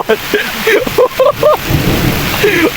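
Heavy storm rain pours steadily in a deep forest while voices talk loudly over the downpour.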